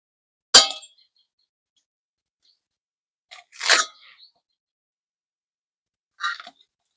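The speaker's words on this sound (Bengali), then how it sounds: "প্রথমে তালটা ছাড়িয়ে নেব।" A palmyra palm fruit being peeled by hand, giving three short, crisp crackling bursts spaced a few seconds apart in an otherwise quiet room.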